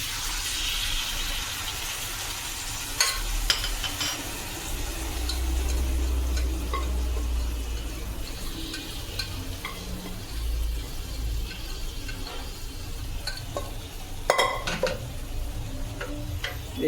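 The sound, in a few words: stirring and frying tender jackfruit vegetable in roasted spices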